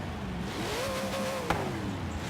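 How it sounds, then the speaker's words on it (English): A car engine revs in the Forza Horizon 3 racing game, a steady droning tone that climbs and then eases back, with a brief click partway through and no talk over it. "Let's rev this car up."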